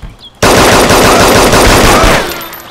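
A rapid burst of silenced gunfire in the video game DayZ, starting abruptly after a quiet moment and rattling loudly in close succession for about two seconds before fading.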